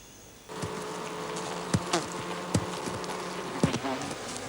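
Bees buzz around a hive near a Kayapo village, a dense close drone with individual insects whining past and a few soft knocks.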